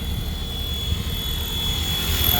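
Close by, an FW450L RC multirotor drone comes in to land with a steady whirring motor and propeller drone, holding even loudness throughout with a thin high whine above it.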